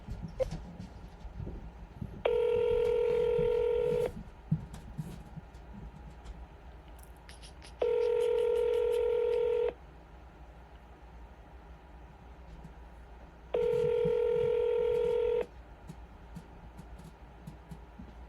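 An outgoing cold call on a telephone rings three times, each a long steady electronic tone of about two seconds with pauses of several seconds between them, over a low room hum.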